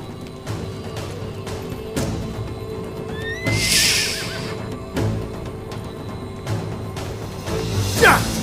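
Horses neigh loudly in a historical battle drama scene, with two sharp whinnies standing out over rhythmic hoofbeat-like thuds and a heavy background score, plus a final shrill cry at the end.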